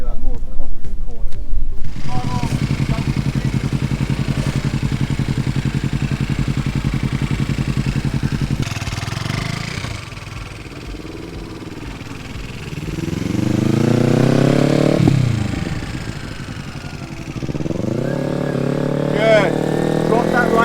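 A motorcycle engine hums and revs through tight turns during parking lot cornering practice, the pitch rising and falling as the throttle is held, while a voice talks over it.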